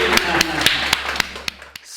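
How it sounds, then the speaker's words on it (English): Sharp, evenly spaced claps, about one every quarter second, ring out in a cath lab after an emergency drill. A low steady hum and faint voices sit underneath. "Everybody, we've saved a life. Round of applause."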